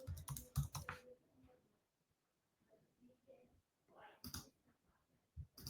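Faint, close computer keyboard typing during a software demo: a quick cluster of key clicks at the start, scattered soft taps, then another short burst near the end, in an otherwise quiet room.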